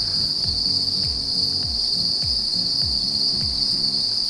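Crickets chirp close by in a steady, repeating rhythm of short trills over a constant high-pitched insect whine.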